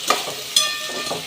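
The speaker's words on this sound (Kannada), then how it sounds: "ಮೀಡಿಯಮ್ ಫ್ಲೇಮಲ್ಲಿ ಇಟ್ಕೊಂಡು ಫ್ರೈ ಮಾಡಿ, ಸೀದೋಗಬಾರ್ದು" Onion and tomato fry in a pan over medium flame for mushroom gravy, with a soft hiss broken by two or three brief stirring scrapes nearby.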